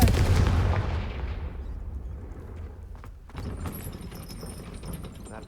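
A Confringo fire spell cast in Hogwarts Legacy, a loud burst with a booming impact that decays over a couple of seconds, followed by a lower crackling game ambience.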